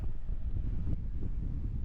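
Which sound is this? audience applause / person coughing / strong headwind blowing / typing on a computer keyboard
strong headwind blowing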